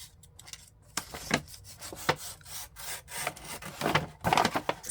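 A large item being cut down by hand for recycling, a dry rasping sawing or rubbing on wood in irregular strokes, close and moderately loud, with no talk.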